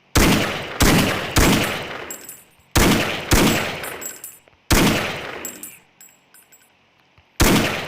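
Gunfire in Counter-Strike: about seven sharp, loud single shots at uneven intervals, each with a ringing tail that decays before the next, with a pause of near silence before the last.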